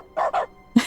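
Short barks from a dog in The Stanley Parable's dog mode, triggered by clicks: two quick close woofs followed by a sharper third bark, with no talk.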